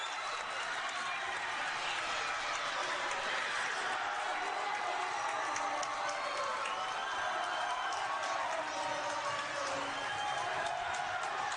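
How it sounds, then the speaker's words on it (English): Basketball crowd noise at the Southern Utah Thunderbirds Christmas game against Northern Arizona in the AFEC arena, a steady dense roar of cheering and clapping sustained throughout without letup. "Crowd here at the AFEC making some noise in the Thunderbirds Christmas game."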